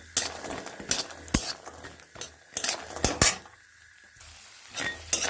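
Bori lentil dumplings sizzle in hot oil in a kadai while a spatula stirs them steadily, with sharp metallic scrapes and clinks against the pan rising above the continuous frying hiss.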